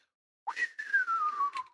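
One long human whistle starts with a quick upward swoop, then glides slowly downward and ends with a brief flourish, close and clear against silence.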